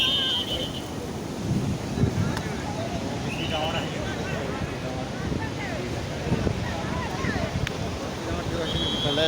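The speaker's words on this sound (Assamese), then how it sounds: "এইফালে চাওক পানীৰ ঢৌ কেনেকুৱা আহে" Sea waves roll and break on Kovalam beach in Kerala, a loud surging wash with wind buffeting the microphone and distant voices and whistles from bathers.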